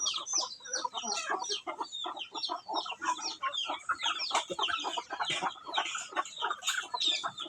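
A flock of chickens clucks and chatters continuously at close range, a dense overlapping mix of hen calls with no voices over it.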